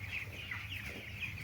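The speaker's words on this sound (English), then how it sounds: "That's what Cornish Rock Cross chickens were developed for" Cornish Rock Cross meat chickens in a large flock raised for meat, giving a close, continuous run of overlapping clucks and murmurs.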